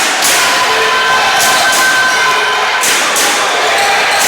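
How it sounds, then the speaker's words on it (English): A basketball crowd at a men's college game cheers loudly and steadily throughout, a dense roar of many voices with a few brief swells and thuds mixed in. "The crowd trying to motivate Piedmont to stay focused"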